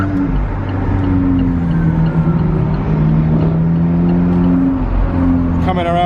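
An Alfa Romeo 4C drives around Hyde Park Corner in London with a loud, close engine hum and steady road roar, its pitch shifting slightly as it moves through traffic.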